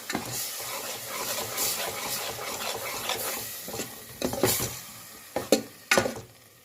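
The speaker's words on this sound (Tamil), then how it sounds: "நம்ம அரைச்சி வச்ச மசாலா இதில் போட்டுக்கலாம். இப்போ இதை நல்லா மிக்ஸ் பண்ணிக்கலாம்." A spoon stirs ground masala paste into a sizzling chickpea curry (kabul kadale kulambu) in a pan. The close scraping and sizzle run steadily, ending in a few sharper clinks of utensil on metal.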